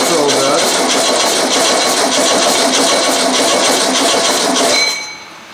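A Volkswagen engine with a carburetor starts cold after sitting for eight years and runs loud and close with a steady, busy rattling idle, then cuts out abruptly near the end.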